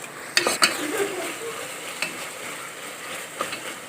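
Tomato masala for egg dum biryani stirred in a pan, a soft sizzle broken by several sharp spoon scrapes and knocks against the vessel.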